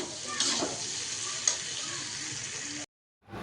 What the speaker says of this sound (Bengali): লবণ আলু দিয়ে দিয়েছি এটা আরও একটু ভালোভাবে ভাজা হয়ে যাক